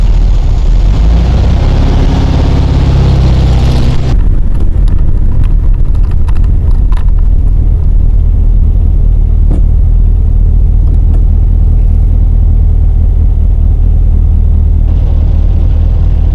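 Air-cooled engine of a 1972 VW Super Beetle on a short drive, a loud close rumble with a heavier burst at the start, then a steady low drone mixed with road and cabin noise and faint clicks.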